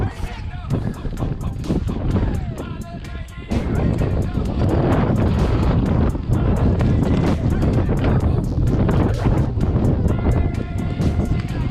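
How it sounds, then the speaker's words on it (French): Strong, continuous wind buffeting a microphone with gusty roaring, with a voice talking intermittently over it, on a mountain bike trail by the sea at Flamanville. "Un petit vent là, oh là"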